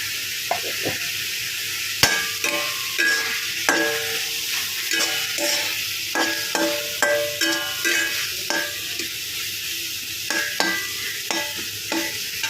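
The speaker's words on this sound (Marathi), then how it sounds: "तर आपण पाच मिनटं छान असं परतून घेणार आहोत" Vegetables sautéed with salt in a pan, a spatula knocking and scraping the pan in a steady run of sharp strokes over continuous frying sizzle, close and clear with no speech.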